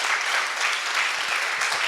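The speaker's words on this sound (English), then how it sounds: "Can you give these folks a big round of applause?" Audience at an evening town hall meeting applauds in a steady, dense burst of clapping that fills the room for the whole stretch, with no talk over it.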